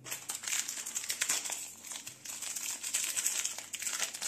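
Plastic blind bag packets holding collectible sticky toy figures crinkle and rustle continuously close up as they are torn open and handled.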